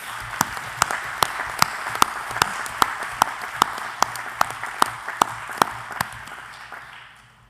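A congress audience at the World Archery Congress 2021 applauds in steady rhythmic unison, sharp regular claps over a bed of scattered hand noise that tapers off at the end.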